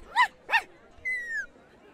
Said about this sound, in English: Got some fine puppies here.